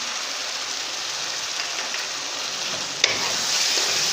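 Nutmeg and mace powder stirred into masala frying in a pot for chana pulao, giving a steady close sizzle with faint scraping and one sharp clink near the end.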